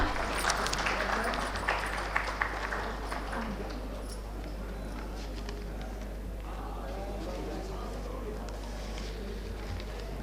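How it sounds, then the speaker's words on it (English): At an urban transit investment session at a rail expo, an audience applauds in a steady, moderate patter under a constant low hum, with a voice speaking over it. "Can we please have a big round of applause,"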